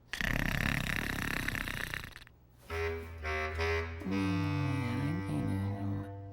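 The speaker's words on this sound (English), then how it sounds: "Dragon started to snore." A cartoon dragon snores: a loud noisy rumble, then a cartoonish snore sound effect with wobbling, bending tones, drawn out over several seconds.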